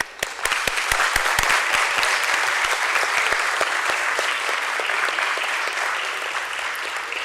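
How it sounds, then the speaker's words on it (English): Sustained audience applause fills a listing ceremony hall at the BSE for Bondada Engineering Limited, a dense steady clatter of many hands clapping at moderate distance, fading slightly toward the end with no voices over it. "let us have a resounding of claps for the hard work and effort put in by everyone."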